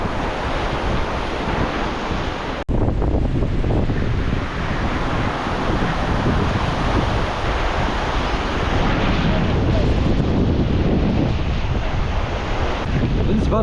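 Strong wind gusts buffet the microphone on a family beach at Agadir, roaring steadily with surf washing beneath, loud and close throughout with a brief dropout near the start.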